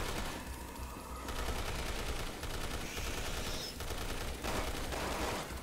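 Sustained gunfire from Resident Evil 6 gameplay as a player shoots an emblem, a dense continuous volley of rapid shots running the whole time with no one speaking.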